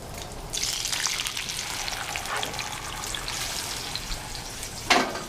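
Rainbow trout frying in a pan, a steady crackling sizzle with spattering, brief louder pop near the end, no talk.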